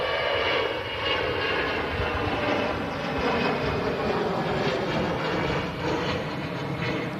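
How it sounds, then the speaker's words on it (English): An EasyJet airliner rolling on the runway at Manchester Airport, its jet engines giving a steady loud roar with a broad rumble that holds for the whole stretch, with no talk. "As the EasyJet starts rolling on the runway out to Milan"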